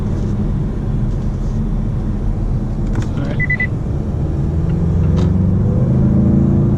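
A 2018-2020 Mazda 6 Grand Touring Reserve turbo engine pulls under acceleration, a steady low rumble inside the cabin that swells and rises in pitch toward the end, with faint road noise and no speech.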